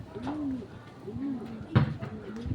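Racing pigeons at a training session give soft, low, repeated coos close by, several overlapping calls in a slow rhythm, with faint background noise and a brief thump.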